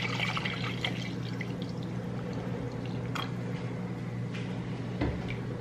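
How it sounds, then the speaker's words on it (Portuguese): Milk poured into a pot on the stove during home cooking gives a steady, soft liquid stream under a constant kitchen hum, with a few light clinks near the end. "Aí, quando ele tá assim, eu coloco o leite. Um pouquinho de leite aqui."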